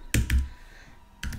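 Keystrokes on a computer keyboard, a quick pair of close clicks, a pause, then another keystroke, close and fairly quiet with no speech.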